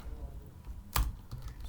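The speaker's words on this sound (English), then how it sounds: "So typing in Sublime text, you can use any editor you like." Computer keyboard typing in a text editor, a few soft scattered keystrokes with one sharper, louder key hit near the middle, close and alone without talk.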